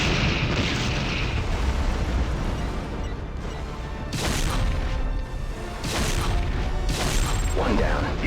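Comms array blowing up in the mech combat game Heavy Gear II: a sustained loud rumbling blast with several booming bursts rolling over one another, dense and continuous throughout.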